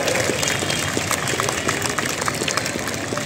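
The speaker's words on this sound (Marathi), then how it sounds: "एकदा जोरदार टाळ्या वाजवून आपण या सगळ्या शिक्षकांना धन्यवाद द्यावे" An audience applauds to thank teachers at a training camp event held at Shree Samarth Vyayam Mandir in Dadar, with dense, even clapping sustained throughout the short stretch and no speech.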